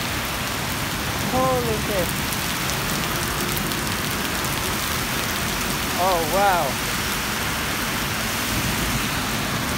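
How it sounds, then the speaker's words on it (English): Heavy rain pours down steadily and close by as people run home through a downpour, a broad constant wash with two brief excited exclamations from a voice over it. "we're basically just going like this because it's pouring down"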